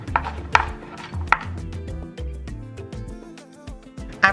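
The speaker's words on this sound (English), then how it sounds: "Mince your garlic." A knife minces garlic sharply against a cutting board in a few quick, uneven strokes, with a steady musical hum underneath.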